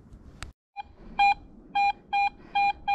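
A metal detector sounds over a buried target: five short, clear electronic beeps in an even rhythm, close and alone after a brief click and a moment of quiet.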